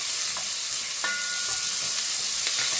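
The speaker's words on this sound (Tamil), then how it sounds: "இப்போ இந்த எடுத்து வச்சிருக்கிறேன் நான் ஒனியனை இதில் போடுறேன்" Shallots sizzle and crackle steadily in a hot pan for a Sri Lankan mutton curry, with a few brief clinks of stirring over the continuous frying hiss.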